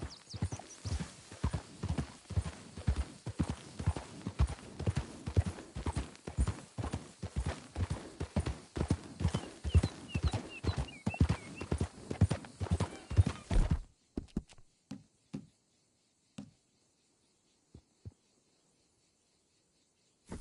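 A horse in Red Dead Redemption 2 trots with a fast, even clip-clop of hooves, close and clear for about fourteen seconds. The hoofbeats then stop, leaving a few isolated thuds amid near silence.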